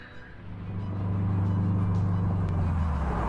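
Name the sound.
car accelerating on mountain road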